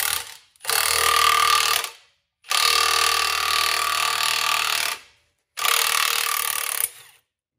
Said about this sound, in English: So I'm going to rotate this axle and literally just drive that ball joint out like it ain't nobody's business.